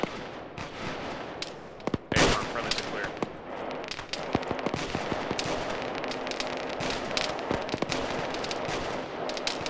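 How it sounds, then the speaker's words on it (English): Arma 3 firefight with dense rattling gunfire, rapid machine-gun bursts and single cracks from near and far, one loud close blast early, under occasional radio-style talk. "We're taking fire from the southeast."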